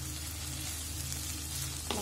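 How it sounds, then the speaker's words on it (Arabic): Carrots hit a hot pan while cooking a vegetable tray bake, giving a steady, close sizzle and frying hiss that holds evenly throughout with no voices. "هنحط بقى الجزر، بسم الله، عشان الالوان كده تبقى جميله كده"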